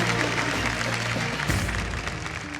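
Dense, continuous applause from a dance-show studio audience, a steady wash of clapping with a low musical rumble underneath, moderately loud throughout.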